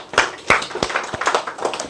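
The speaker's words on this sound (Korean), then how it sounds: "야, 잘하는데 박수 한번 주고." Students in a classroom give a short round of applause during an agriculture lecture. A few scattered, uneven claps ring out close by, fairly sparse rather than a full ovation.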